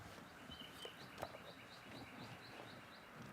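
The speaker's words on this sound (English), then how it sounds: "Couple birds." A few birds chirp faintly in a repeating pattern at a distance over steady outdoor ambience on a disc golf course.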